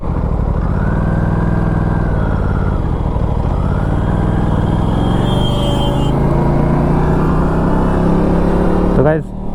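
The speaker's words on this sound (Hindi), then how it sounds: "जब भी तुम खड़ी हुई बाइक पे होगे और फर्स्ट गियर डालोगे आवाज़ आएगी।" Aprilia RS457 motorcycle engine idling and revving loudly while sitting still, with rising pitch and a clunk as a gear engages near the end; steady, close and continuous.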